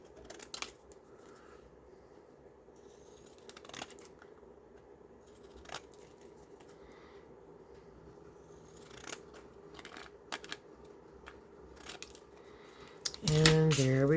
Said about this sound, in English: I'm going to cut around.